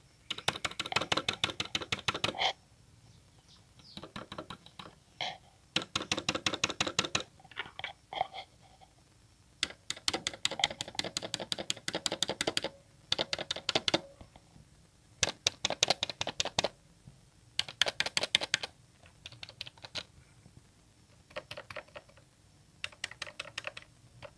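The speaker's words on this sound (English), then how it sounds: "I'd say this keyboard is satisfying to type on" Bursts of rapid typing on an Armaggeddon MKA-3C Psychfalcon keyboard, close and crisp, with short pauses between runs of keystrokes; no voices.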